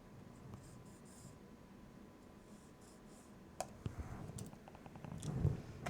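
Pencil tracing across paper while making a small file folder album, a soft continuous scratchy scrape, faint and close, with a few sharper ticks and a slightly louder stretch of drawing toward the end.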